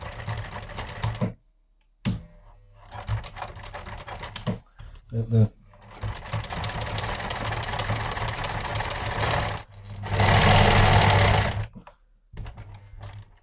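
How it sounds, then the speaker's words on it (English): A sewing machine stitches the outside seam of a waxed fabric tool roll, running in steady motor whirs broken by brief pauses and short restarts, ending in a louder sustained burst; a voice speaks briefly between runs. "That's all that's left to do of the outside seams is to stitch this one, and I'll be done."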